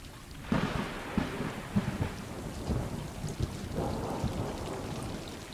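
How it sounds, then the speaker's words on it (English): Steady rain with low rumbles of thunder rolling through in the video game Stray, a continuous stormy wash with a few heavier bursts, no voices. "Definitely pretty rainy."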